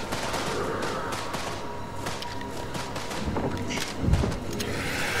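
AK rifle fire in the House of Ashes video game, heard as bursts of gunshots mixed with thuds, footsteps and game ambience, with a heavier impact near the end.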